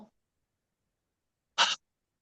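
A single short, sharp sneeze breaks an otherwise silent pause, close and fairly loud.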